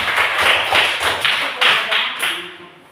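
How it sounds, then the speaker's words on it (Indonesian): A classroom gives a short burst of applause, a series of loud rhythmic claps in roughly even beats that tapers off near the end. "tepuk tangan untuk Ventrion dulu."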